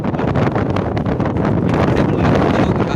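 Strong wind at the Kadana river dam: loud, continuous roaring gusts buffet the microphone, a rough, rumbling rush with no pauses.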